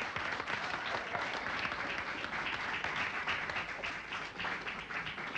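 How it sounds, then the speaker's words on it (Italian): A studio audience applauds steadily at a live variety show during a rope-and-knot magic trick, a dense, fairly quiet wash of many hands that holds even throughout, with no voices on top. "Oh, ma che te metti pure a fare l'applauso?"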